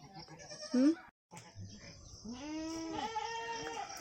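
Goats bleat close by at a village goat shed, a sharp cry early, then a longer wavering bleat that carries on, with a voice briefly talking at the start.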